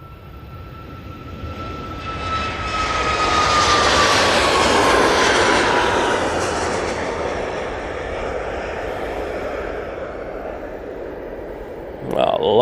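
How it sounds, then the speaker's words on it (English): A Ryanair Boeing 737 MAX 8 starts its takeoff roll at Manchester Airport, a jet roar that builds to a loud peak and then slowly fades into the distance, with people talking nearby. "737 MAX 8, now on the roll."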